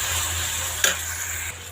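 Onions and ginger garlic paste fry in a pan with a steady close sizzle, broken by one brief clatter of a spoon stirring against the pan.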